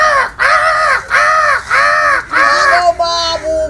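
Crows caw loudly in a steady rhythm, about six harsh, drawn-out calls in quick succession close by in a home courtyard, the last ones shorter and more broken.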